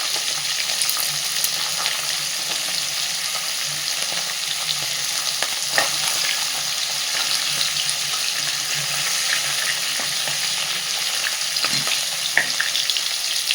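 Dried red chillies and two bay leaves frying in hot oil during a traditional lau ghonto with fish head, giving a steady close sizzle throughout with occasional soft stirring clicks.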